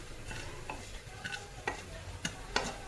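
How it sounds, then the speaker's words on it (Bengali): Chillies fry in a pan until charred, a faint sizzle under several sharp stirring scrapes and taps of a spatula, spaced a moment apart, with no talking. "একদম পুরো লাল করে ভাজতে হবে, ভাজতে ভাজতে পুরো লঙ্কাটা কালো হবে"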